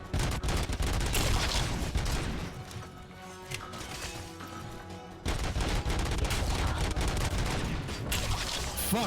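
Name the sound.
machine gun fire in video game RoboCop Rogue City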